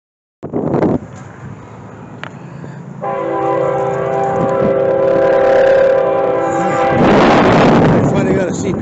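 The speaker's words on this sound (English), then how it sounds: "I finally got a CPR train." A CPR train rumbles past nearby, its horn sounding a sustained chord over the rolling clatter of the cars, with a burst of wind noise near the end.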